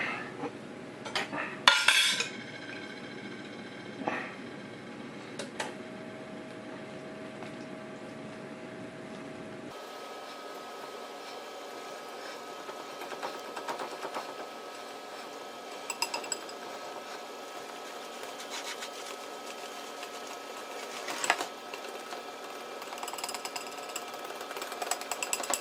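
Coconut cream cake ingredients being mixed, with clinks of utensil against bowl and a steady mixer-like whir running throughout, fairly quiet and without talk.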